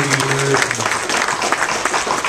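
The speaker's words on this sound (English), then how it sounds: "I'd like everyone to give him a round of applause" An audience at a police chaplain's introduction breaks into applause, a dense burst of clapping that carries evenly through the moment, with a brief voice tone at the start.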